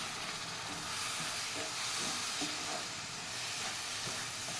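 Milk hits a hot pan of roasting rava and sugar for laddu, giving a continuous loud sizzling hiss that holds steady throughout, with no talking.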